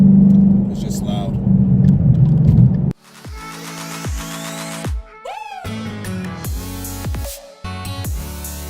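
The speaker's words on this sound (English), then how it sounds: "I think the sound is starting to change in the exhaust right now" Ford Mustang GT fitted with a FlowMaster Outlaw catback and Scavenger X-pipe, a loud low exhaust rumble while cruising at highway speed that cuts off abruptly partway through, followed by other sounds with tonal sweeps.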